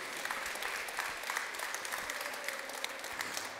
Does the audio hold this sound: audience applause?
yes